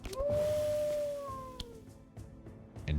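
Captain's Howl ability in the video game Across the Obelisk, a single drawn-out howl rising then sliding downward over about a second, fairly loud, followed by faint scattered clicks.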